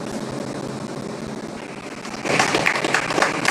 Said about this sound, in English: We've got some applause here.